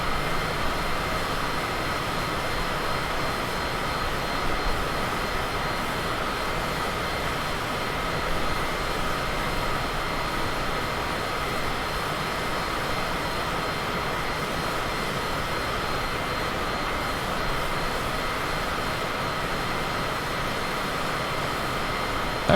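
Cessna Citation jet engines in flight in Microsoft Flight Simulator 2020: a steady, loud, broadband whine and rushing roar that holds even and unbroken throughout, with no voices.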